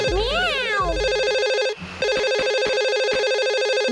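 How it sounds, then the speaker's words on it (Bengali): A Boonie Bears cartoon telephone rings loudly with a bright, repeating electronic trill. Sweeping, warbling cartoon tones come first, then a short pause, and then a steady run of rapid ring pulses. "ফোন আইছে।"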